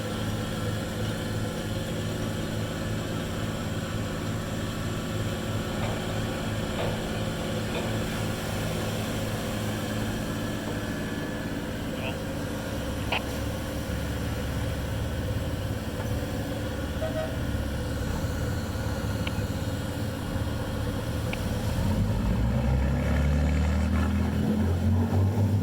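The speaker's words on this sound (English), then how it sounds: "here's a little clip of the old boat going into the water." An old lifeboat launching into the sea, a loud continuous engine rumble with rushing water and a rising churn near the end, no speech over it.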